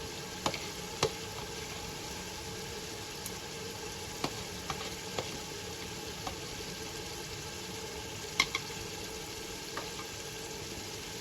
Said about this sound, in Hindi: इसे अच्छे से भून लेते हैं मसाले को